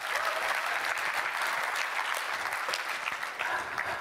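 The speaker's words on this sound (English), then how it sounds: "clap it up, please" A seminar audience breaks into sustained applause, a thick, even roar of many hands clapping for several seconds without a pause.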